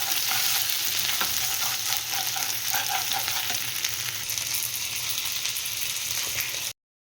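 Green chilies fry in a pan of oil with ginger-garlic paste for a restaurant-style kaju masala, a continuous close sizzle with light stirring scrapes and small pops, cutting off abruptly at the end.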